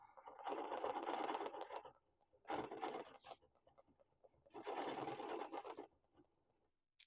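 Sewing machine free-motion quilting a wholecloth quilt, three bursts of rapid, fast-stitching hum separated by short pauses, close but quiet.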